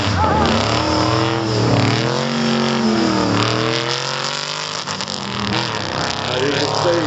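A Cosworth race car launches hard down a drag strip, its engine roaring loudly and climbing through rising revs as it pulls away, with a voice talking over the noise.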